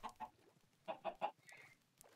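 Chickens in the Minecraft video game cluck in a short burst of three quick, close calls after a softer opening cluck, with a faint squawk near the end.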